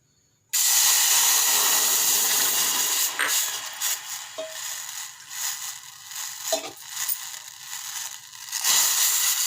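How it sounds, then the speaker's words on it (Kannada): Three cups of water poured into a hot pot on a stove, starting abruptly as a loud, steady hissing rush that fluctuates a little and carries on to the end, with no talking. "3 ಕಪ್ ನೀರು ಹಾಕೋಣ."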